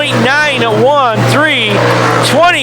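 Race cars roar down the speedway front stretch, engines rising and falling in repeated swooping passes, loud and close, under a continuous announcer's commentary.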